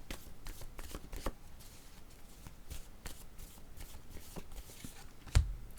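Tarot cards are shuffled and drawn, giving soft repeated riffling and flicking, close up, with one sharper knock near the end and no talking.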